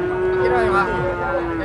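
A cow lows at a cattle market in Glenmore, with one long steady moo close by while someone talks over it and market chatter carries on behind.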